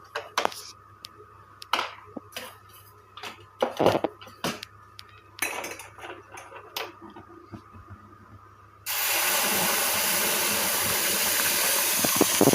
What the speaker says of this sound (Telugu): ఇప్పుడు ఆ వాటర్ అందులోకి వేసేద్దాం మూడు కప్పులు వాటర్